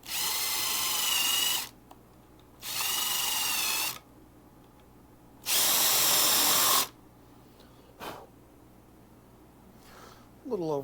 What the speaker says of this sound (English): Now, these also get countersunk.